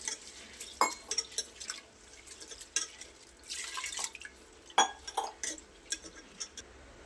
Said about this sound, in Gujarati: પાણી ઉમેરી સરસ 2 થી 3 પાણીથી ધોઈ લઈશું.